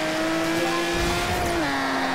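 A Ferrari in the racing game Forza Horizon 2 holds a steady high engine whine with tire noise, and its pitch dips slightly near the end as it shifts. The engine runs alone throughout with no voices.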